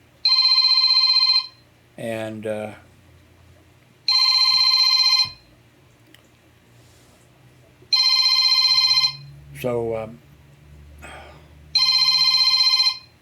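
A Moto G Stylus cell phone rings in repeated electronic bursts of about one and a half seconds, four in all, loud and close, with a voice speaking briefly in the gaps between rings.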